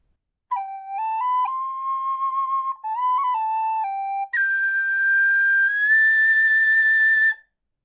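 A tin whistle plays the Braveheart Freedom theme at full speed, a brisk string of bright notes with small ornaments before a leap to a long, sustained high note that slides up, solo and close.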